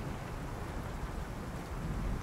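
Steady, dense rain from the video game World of Goo 2, set in a dark city of constant rain, hissing evenly throughout with a low rumbling undertone and no voices.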